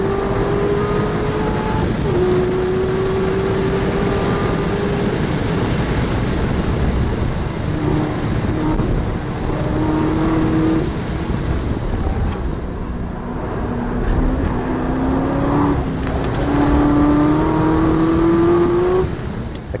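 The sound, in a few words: 2012 Corvette ZR1 racing at the Nürburgring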